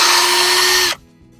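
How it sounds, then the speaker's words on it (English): A power drill whirs steadily at high speed for under a second while building a chicken coop, then cuts off abruptly into near silence. "I can't get in there with the drill."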